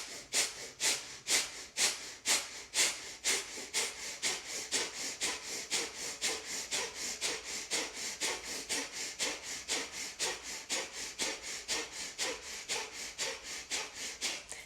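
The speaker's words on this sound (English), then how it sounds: "we'll begin by taking a nice big inhale and begin pumping" Rapid, rhythmic forced breathing during a breath-work exercise, loud close sharp nasal pumps repeating steadily at about two to three per second throughout, with no speech.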